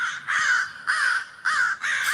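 A crow gives four harsh, loud caws in an even rhythm, each about half a second long and close by, with no talking.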